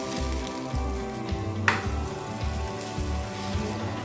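Parotta frying in oil on a hot pan gives a steady, close sizzling hiss with faint crackles, heard alone without talk.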